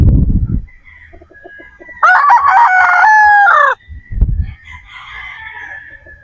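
A straight-comb Boston Roundhead rooster lets out one loud, close crow, with short soft clucks before it and quieter muffled thumps and low calls around it.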